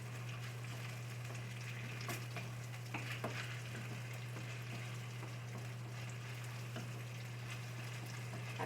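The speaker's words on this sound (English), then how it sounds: "I'm going to just stir all this together," Ground beef and soup for a cheeseburger biscuit bake sizzle and simmer in a pan while being stirred, a steady close bubbling hiss over a low constant hum, with occasional scraping clicks of the spoon.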